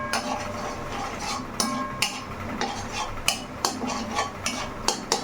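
Softly fried egg being stirred with spices in a frying pan, repeated scraping and clinking of a utensil against the pan at an uneven rhythm over a constant sizzle, close by.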